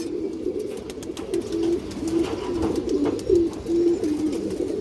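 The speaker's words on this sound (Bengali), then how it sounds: "পুরান ল্যান্ডের খাকি কবুতর দর্শক" Khaki pigeons coo in a steady series of low, rounded calls repeating close by, with faint rustling and other birds in the background and no talk.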